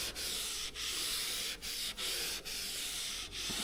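A brush scrubs rust treatment into rusted metal on a Volkswagen Amarok in steady, close, rasping strokes with brief regular pauses between passes.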